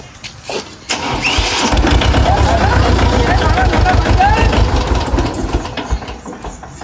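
A tractor engine cranks and catches, then runs with a loud, steady diesel chug before sputtering toward the end; voices can be heard nearby.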